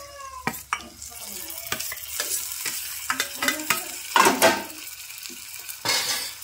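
Ground masala frying in a pan and stirred with a metal spoon in a home kitchen: irregular scraping and clinking against the pan over a soft steady sizzle, close and clear, with no talking.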